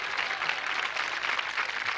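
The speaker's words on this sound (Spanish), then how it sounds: "El aplauso a Luchito." A studio audience at a 1986 Chilean Saturday variety show breaks into steady, dense applause that holds at an even level throughout, with no talk over it.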